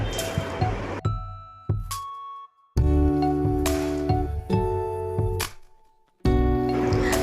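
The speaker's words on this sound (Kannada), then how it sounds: "ಇದನ್ನು ಒಂದು ಸ್ಪೂನ್ ಅಥವಾ ಬೀಟರ್ನ ಸಹಾಯದಿಂದ ಈ ಥರ ಚೆನ್ನಾಗಿ ಮಿಕ್ಸ್ ಮಾಡ್ಕೊಳ್ಬೇಕು" A spoon mixes paneer tikka marinade in a bowl, making wet squishing strokes and ringing clinks against the side in a few separate bursts with brief pauses between.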